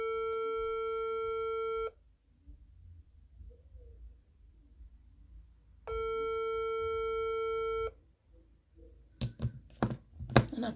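A telephone ringback tone sounds while a call is placed, two long steady electronic tones separated by a few seconds of quiet room hush, followed by a few thuds and handling knocks at the end.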